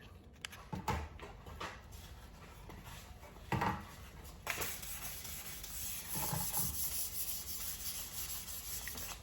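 Hand sanding of primer with 1200 grit sandpaper on a Jeep Gladiator fender flare, close, soft scratchy rubbing strokes that start sparse and become a continuous gritty scrubbing in the second half.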